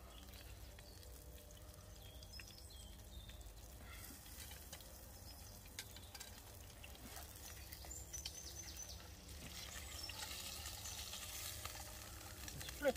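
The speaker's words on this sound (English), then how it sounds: "it's sizzling well" Steady frying sizzle crackles continuously from a pan while cooking outdoors in woods, soft and even throughout, with a few faint clinks near the end.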